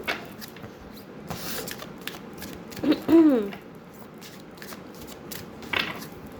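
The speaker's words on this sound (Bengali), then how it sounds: "তিনটি করে কার্ড নেব 3টি ডেক থেকে।" Tarot cards from three decks are shuffled and drawn up close: soft scattered riffles and slides, a few louder flicks and swishes standing out from the papery rustle, with no clear talk.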